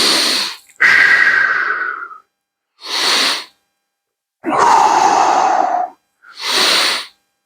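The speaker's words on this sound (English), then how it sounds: "Let's take a few breaths to it." Deep, slow breathing during a lumbo-pelvic-hip stretch with a strap: several long, airy inhales and exhales, loud and close, with silent pauses between them.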